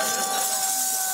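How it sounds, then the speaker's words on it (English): Broken glass pieces poured onto a person lying in a carnival glass-burial act, a brief continuous bright rattling and tinkling cascade of shards, close and fairly loud with no talk. "Let's pour some more glass on the guy."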